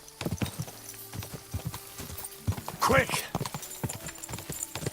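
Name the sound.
horse hooves clip-clopping in a video game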